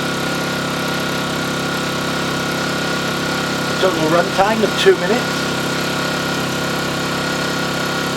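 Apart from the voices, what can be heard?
HY1000Si inverter generator engine running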